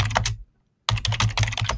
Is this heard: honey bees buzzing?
no